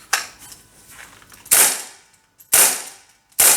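An X-Force Tactical Wingun 2.5-inch CO2 revolver firing three sharp, close pops about a second apart, each one a crisp crack with a short decay. Faint mechanical clicks come between the shots.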